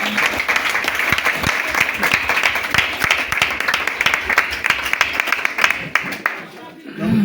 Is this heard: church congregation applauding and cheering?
yes